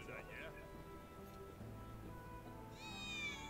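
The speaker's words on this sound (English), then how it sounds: "I swear I just heard a cat." A cat meows in the video game Final Fantasy VII Remake, a short rising tonal call near the end over a quiet game background with ambient hum and soft tonal music.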